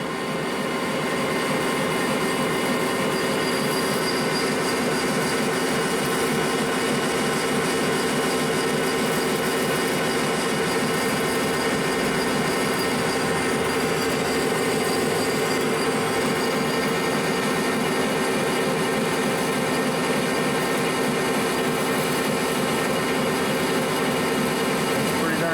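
Metal lathe turning at 180 RPM, taking a 25-thousandths depth of cut at 3.3 thousandths per revolution on an ACRA Heavy 14 with a large steady rest, giving a steady, loud continuous machining drone throughout.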